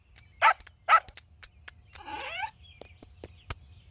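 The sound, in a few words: dog barking in The Simpsons cartoon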